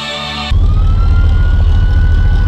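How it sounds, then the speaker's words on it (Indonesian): A police car siren wails loudly and close in a game scene, a steady rising-and-falling tone that kicks in abruptly after a brief tonal lead-in, with engine rumble underneath. "Wow, mobil polisi."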